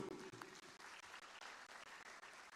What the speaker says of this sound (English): Please, a round of applause for him too.